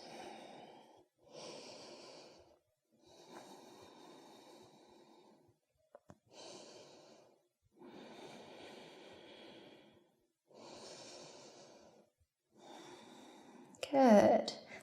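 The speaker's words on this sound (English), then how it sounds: "Start to deepen your breath here." Slow, deep breaths during a yoga forward fold, each inhale and exhale a soft, airy rush lasting a second or two. The breaths repeat in a steady rhythm, close and quiet, with a sharper, louder breath at the end.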